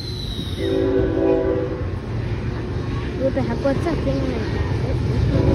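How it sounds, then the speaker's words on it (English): A train passing with its horn sounding: a loud rumble of rail cars with a sustained horn blast early on, under background voices and crowd chatter. "Train."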